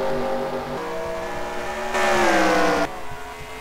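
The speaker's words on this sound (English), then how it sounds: "Cars are going left and right, trying to pass each other." Race cars in a racing video game roar past one another in a pack, steady engine drone rising into a louder passing surge before dropping back, with no voices.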